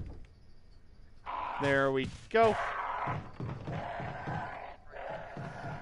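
Crows caw in the Resident Evil video game, sounding as harsh, strained calls in two quick bursts near the middle. Someone talks over and around them, and low game ambience continues underneath.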